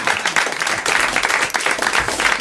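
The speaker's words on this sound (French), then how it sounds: "il prend ses deux mains pour applaudir Claude Sarraud" A studio audience claps loudly and continuously, a dense, close burst of applause with slight swells and no voices over it.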